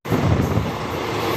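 A goods train rumbles past the halted Dharmavaram Express on the Vijayawada to Tirupati line, a sudden loud, steady roar with windy buffeting.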